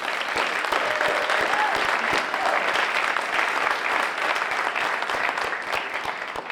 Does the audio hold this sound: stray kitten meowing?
no